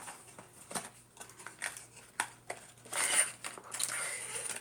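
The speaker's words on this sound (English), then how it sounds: "Oh, there's tape. No wonder I couldn't open it." A taped cardboard subscription box being pried open, scattered crinkles, scrapes and a tearing rustle near the microphone, irregular and fairly quiet with short pauses between bursts.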